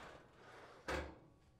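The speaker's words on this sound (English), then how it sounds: "Confirm that the drawer can slide in and out freely." An oven's storage drawer slides along its rails, giving one short rolling thud with a faint scrape, quiet and close in an otherwise still room.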